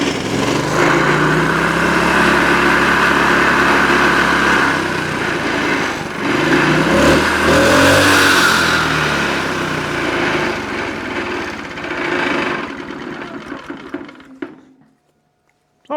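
A Champion 2800-watt generator's small engine runs loud and close, a steady buzzing drone that rises and surges briefly midway before sputtering off near the end.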